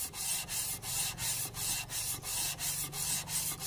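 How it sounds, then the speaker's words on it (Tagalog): The gasket surface of a Honda Click 125 cylinder head is sanded by hand in regular back-and-forth strokes, a close, rhythmic rasping scrub about three strokes per second, with no talking. "Ayan mga idol, lihain natin."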